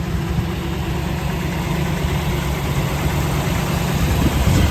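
A 1961 Corvette V8 running at a steady, rumbling idle, close and even, with low throbbing exhaust pulses that swell slightly toward the end.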